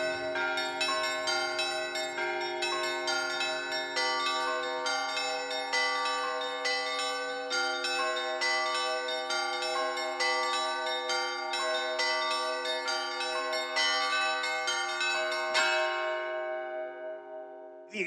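Church bells ring in a dense, sustained peal of overlapping metallic tones, struck repeatedly in an even rhythm, loud and resonant, then a final strike near the end and a ringing decay into silence.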